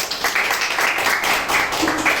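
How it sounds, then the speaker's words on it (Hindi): Applause from an audience at a college award ceremony honouring a BBA university topper, steady dense clapping throughout at moderate loudness with no break. "एक बार जोरदार ताली"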